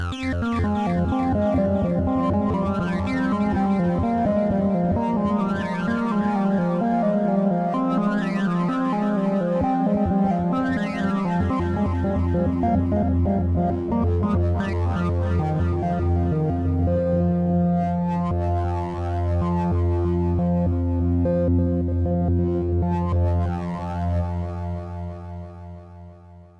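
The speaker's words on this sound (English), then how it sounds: "I have a TB303 sweep in here." A resonant acid bassline, a TB-303 sweep sample played on an Ensoniq EPS-16 Plus sampler, with a filter sweeping up and down repeatedly, buzzy and squelchy, playing steadily without any voices.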